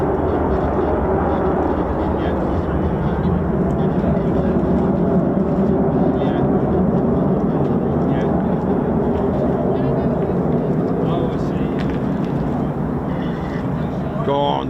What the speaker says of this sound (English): F-35s, here we go.